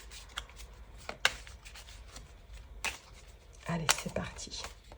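A deck of tarot cards being cut and handled at a reading table, with soft papery riffles and slaps scattered through the clip, a sharper snap near the start and a cluster of card sounds toward the end, close and fairly quiet.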